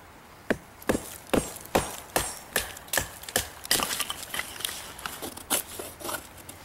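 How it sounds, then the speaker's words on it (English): An East German survival knife is hammered through wood, sounding as about a dozen sharp, woody chopping knocks at a fairly even pace, close by and with no talking. "let's take and try and see how this batons"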